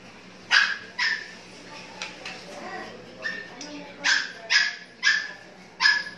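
A puppy barks in a string of about seven sharp, high yips at uneven intervals, close by, with a little background chatter from people between the barks.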